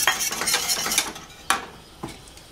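A whisk beats buttercream frosting flavored with vanilla in a bowl, making quick scraping strokes followed by a few sharper separate taps.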